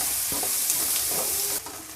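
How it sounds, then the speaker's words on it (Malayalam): Shallots and sliced onion frying in oil for a Kuttanadan duck roast: a loud, close sizzle with a few spatula scrapes and stirring knocks, easing off slightly toward the end. "നമ്മൾ മുറിച്ച് വെച്ചിരിക്കുന്ന സവാള ചേർത്ത് കൊടുക്കാം. ഇതെല്ലാം കൂടെ നന്നായിട്ട് മൂപ്പിച്ചെടുക്കാം"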